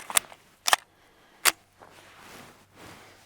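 Three suppressed pistol shots through a CGS Mod 9SK suppressor with Remington 115 grain ammunition crack out sharply at uneven intervals, followed by softer mechanical shuffling and low rustle, with no talk.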